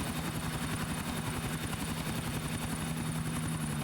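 A helicopter in the video game GTA 4 hovers nearby, a steady, rapid rotor thump with a broad whooshing roar, continuous and moderately loud.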